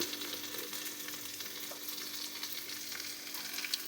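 Soybean masala with tomato frying in a pan makes a dense, even sizzle that holds steady for a few seconds, close up and quiet, with no one speaking.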